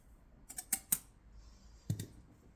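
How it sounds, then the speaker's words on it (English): Sourdough with salt and diastatic malt powder being whisked by hand, a few soft, quick scraping clicks in two short bursts, close and quiet. "I'm just going to whisk that in."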